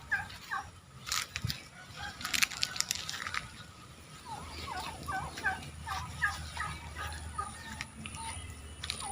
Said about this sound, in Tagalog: Ito yung mga pabo na ilalagay namin doon sa ginagawa naming pabahay